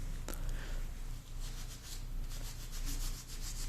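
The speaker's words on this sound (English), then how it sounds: "I will take some steel wool here, and we'll just rub it over the area in question" Steel wool scrubs steadily back and forth over the finish of a three-piece takedown Plains Indian bow, a close, continuous rasping rub with brief pauses.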